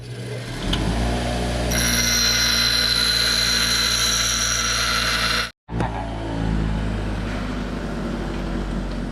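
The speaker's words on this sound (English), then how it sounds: "now we'll grind up our small piece and fit up the first joint" A hand grinder works a small metal piece for a welded door-frame joint, giving a loud, steady high whine that cuts out briefly near the end and then starts up again.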